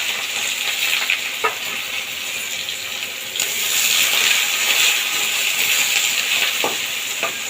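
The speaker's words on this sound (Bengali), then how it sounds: "দেখুন তেলটা খুব ভালোভাবে গরম হয়ে গেছে এই সময় দিয়ে দেব শুকনো লঙ্কা" Dry red chillies, crushed ginger, garlic and onion dropped into hot oil, a steady loud hiss of frying that swells midway and keeps sizzling close up with faint clicks, no talking.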